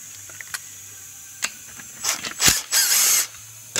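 An impact wrench runs down bolts on the LS3 engine of a Boss Hoss motorcycle, giving several short, loud, buzzing bursts close by, with the longest near the end and quieter clicks of handling between them.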